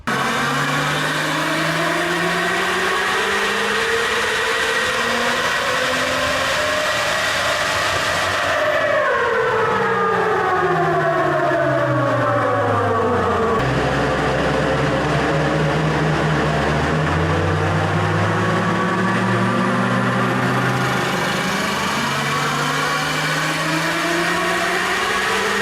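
Turbocharged Toyota 1FZ-FE engine in an 80 Series build with upgraded cams, valve springs and a new head, on a dyno test run: a loud sustained roar that climbs steadily in pitch, drops off sharply, then winds back up.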